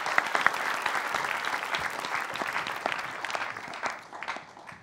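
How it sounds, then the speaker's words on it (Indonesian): Studio audience at an Indonesian comedy talk show breaks into steady, dense applause that fades slightly toward the end, with no talk over it. "Boleh tepuk tangan."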